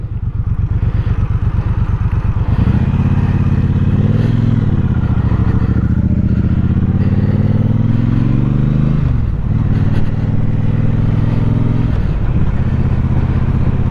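A 2021 Triumph Speedmaster motorcycle pulls away in first gear, its loud, close engine throbbing steadily, then rising in pitch as it accelerates, easing briefly and building again.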